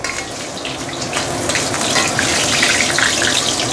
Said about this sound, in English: you can actually put in the meat for a couple of seconds